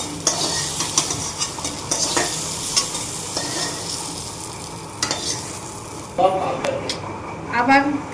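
Sliced pointed gourd (potol) fries in hot oil with turmeric and salt, a steady loud sizzle broken by repeated scraping stirs of a spatula in the pan, with voices talking over it near the end.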